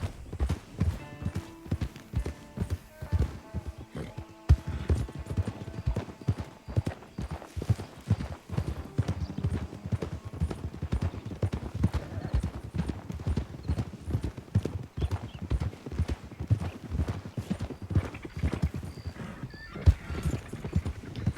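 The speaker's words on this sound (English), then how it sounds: "We got to do a group practice run where we went over the course at a smooth canter" Horse Everest canters over an eventing competition course, with rapid, rhythmic hoofbeats thudding close and continuously throughout, plus occasional snorts and a whinny.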